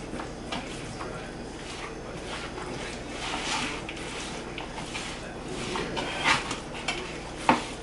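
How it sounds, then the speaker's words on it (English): Strips of carne asada steak are tossed in a bowl until coated, giving a soft, continuous wet stirring and rustling with occasional faint clinks, under light background noise. "Toss it until it's all coated."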